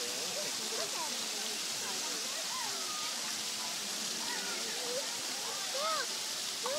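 Water churns steadily in a tiger pool at the Pittsburgh zoo, a constant broadband rush like a waterfall. Voices and chatter from nearby onlookers carry faintly over it.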